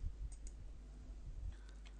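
A few faint, light mouse clicks sound against a quiet room hum as the Lodge button is pressed in MYOB payroll software.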